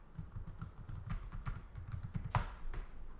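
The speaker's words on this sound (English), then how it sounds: "Type in the password" Someone types a password on a computer keyboard at a login page, producing a quick, steady run of close keystroke clicks with a louder tap near the end and no talking.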